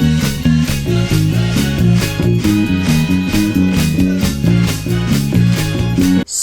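Chorus of a 1960s pop song, a driving but slightly relaxed groove with a bouncing bass line, punchy drums and full band playing loud and steady without talk.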